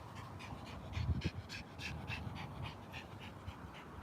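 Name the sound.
dog panting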